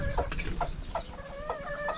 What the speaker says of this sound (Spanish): También las gallinas comen, igual que nosotros